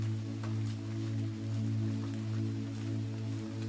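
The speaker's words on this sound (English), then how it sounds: "She listens to the sound of the rain trickling down the fabric of the umbrella." Steady rain falls on a city pavement and a fabric umbrella at night, a continuous soft patter with scattered drops, heard alone over a low constant hum.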